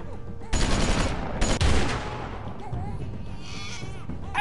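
Burst of gunfire from a shootout near woods in The Walking Dead video game, loud sharp shots at the start with a second volley, then fading into background noise and a voice.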